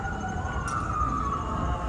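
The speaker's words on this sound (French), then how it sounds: "Les sirènes." A distant emergency vehicle siren wails steadily in New York City, its tone wavering slightly over a low background rumble.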